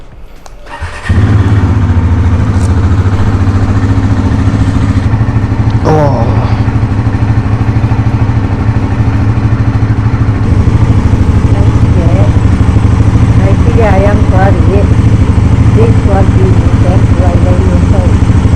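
A motorcycle engine cranks and catches after a brief quiet start, then settles into a loud, steady idle close by, with occasional chirps and light voices over the running engine.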